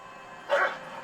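A single short dog bark from The Walking Dead season 5 episode 10 rings out, moderately loud, over a faint steady background hum.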